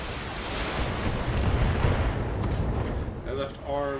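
A PPC energy weapon fires in the BattleTech mech combat game, a heavy roaring blast with a rumbling low end that swells and lingers, followed by a brief tonal burst near the end.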